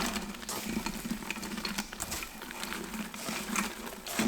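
Red onions cook in a pot for French onion soup, a quiet, continuous soft sizzle with rustling stirs and occasional light scrapes, heard close with no talking.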